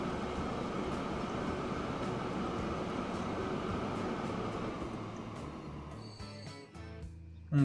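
Freight train unloading steel in Transport Fever 2: a steady rumbling, rolling rail drone that fades near the end, followed by a few brief mechanical clicks and then a sudden burst.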